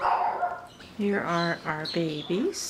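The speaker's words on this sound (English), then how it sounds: "I apologize for the dog barking in the background." A dog barks and yelps a few times in the background while a person speaks nearby, the short barks coming in quick bursts between pauses.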